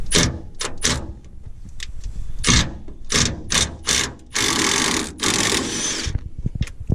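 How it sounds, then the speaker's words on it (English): Impact wrench removing rusty frame bolts on a Chevy S10, loud rattling bursts of hammering of varying length separated by brief pauses, with a longer sustained burst near the end and some metallic clatter. "if you are going to use an impact, make sure you're straight on while you're doing this"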